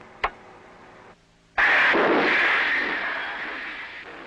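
A nuclear submarine fires a torpedo during an exercise: a sharp knock, a brief hush, then a sudden loud rushing blast that slowly fades into a long roaring hiss.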